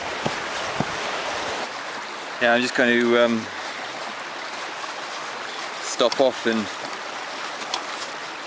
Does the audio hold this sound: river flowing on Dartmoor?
yes